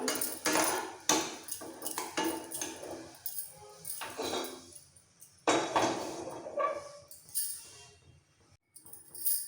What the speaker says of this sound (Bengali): এবার কড়াই বসিয়ে দেবো পুরো রান্নাটা হওয়ার জন্য